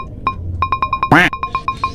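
A mobile phone rings for an incoming call, giving a string of evenly spaced electronic tone pulses close by, with one brief louder vocal burst partway through.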